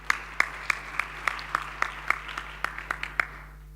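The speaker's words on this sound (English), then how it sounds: "Let's give him a round of applause." Sparse, steady clapping at a regular beat, like a small audience applauding, with a low hum underneath and no talking.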